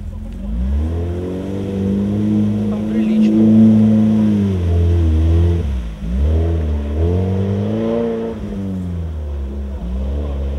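Off-road vehicles rev their engines at an off-road event, giving loud, sustained, rising and falling engine drones with a brief dip partway through. Nearby voices talk over the engines.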